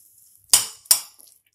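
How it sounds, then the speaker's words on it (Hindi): A spoon mixing bhel puri ingredients with chutney gives two sharp, close clinks against the dish, a short beat apart, in an otherwise quiet moment. "अब इन सारे इंग्रेडिएंट्स को हम चम्मच से पहले मिक्स कर लेंगे।"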